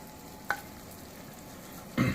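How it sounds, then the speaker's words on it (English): Bacon cooking in a pan on low heat gives a soft, steady sizzle throughout, with a couple of brief louder clinks or stirs near the start and end. "I have my bacon cooking just on a low heat"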